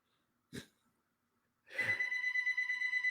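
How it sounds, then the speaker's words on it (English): A short thump, then a phone starts ringing with a steady electronic tone that keeps going, fairly close and clear, with no talking. "now my phone's ringing."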